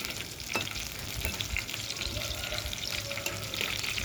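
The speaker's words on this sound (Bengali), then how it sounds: "আমি এখানে পেঁয়াজ কুচি আর রসুন কুচি ভেজে নিয়েছি তারপর কতগুলো গোটা শুকনো লঙ্কা দিয়ে দিলাম" Chopped onion, garlic and whole dried red chillies frying in hot oil give a continuous close crackling sizzle, with occasional stirring scrapes and small pops throughout and no speech.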